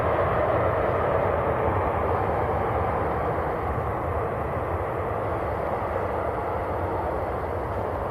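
An EasyJet airliner just in from Paris at Manchester Airport gives off a steady, moderate jet rumble that holds evenly throughout, with no voices over it.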